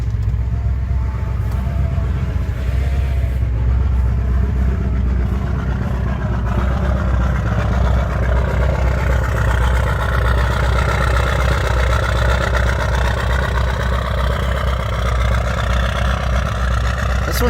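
A turbocharged engine idles after a cold start, a steady low rumble with a faint whine above it, continuous and fairly close, with no voices over it.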